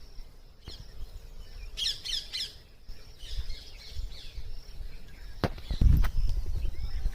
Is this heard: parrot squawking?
yes